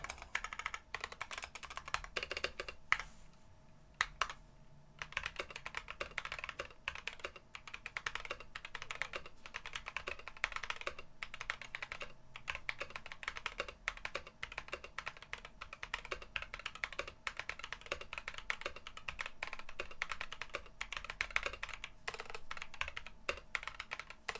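Typing on an NK87 mechanical keyboard with unlubed switches and stock stabilizers, a quiet, continuous clatter of fast keystrokes close up, with a few brief pauses and no talking.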